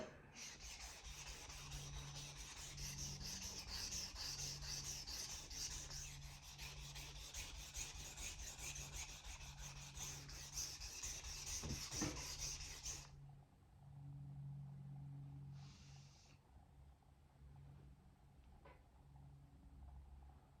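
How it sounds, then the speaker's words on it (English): Steel of a Hinoura petty knife scrapes back and forth against a sharpening stone while the primary bevel is thinned, giving a steady rasping rub that stops abruptly, followed by quieter background hum. "you will be able to see the progress I'm making with thinning the primary bevel"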